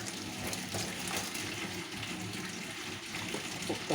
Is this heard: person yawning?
no